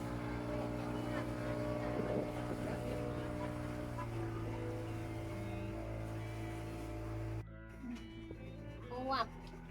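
A boat engine drones steadily and close during a sea trip off Sabang, then cuts to quieter water and wind noise near the end, with people talking over it.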